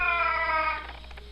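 A cat caged in a stainless steel shelter cage gives a single loud, close, drawn-out meow that fades at the end.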